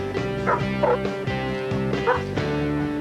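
A police dog barks repeatedly up close, a few sharp woofs mixed with higher yips and whiny tones over about three seconds.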